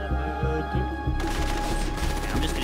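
Rapid gunfire in GTA 5 arrives as a string of quick rhythmic thumping shots, first muffled and then brighter and denser after about a second, continuing steadily under a constant background hum.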